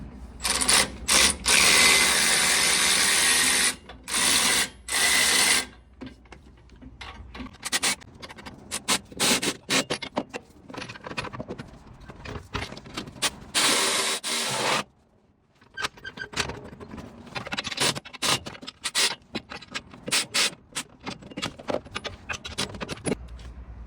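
A cordless ratchet turns bolts on a Chevy S10 street truck with loud, close mechanical whirring bursts. Long runs alternate with shorter stop-start spurts and small clicks and clinks, and no voices are heard.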